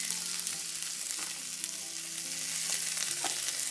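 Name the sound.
light soy sauce sizzling in shrimp and vegetable stir fry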